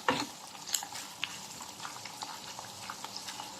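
Mushrooms frying in a pan for chicken salpicao while being stirred, a steady soft sizzle with a few scraping stir strokes near the start, close and moderately quiet, no talking.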